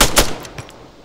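Gunfire in the Arma 3 Exile mod: a quick burst of two or three loud, close shots followed by a fading echo, with no talking.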